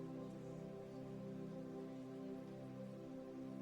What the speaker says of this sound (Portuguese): Eu acho que é chuva.